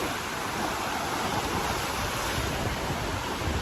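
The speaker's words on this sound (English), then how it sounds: "look at those waves" Ocean waves at the beach, heard as a continuous broad roar of surf mixed with wind buffeting the microphone, steady and fairly loud, with no speech.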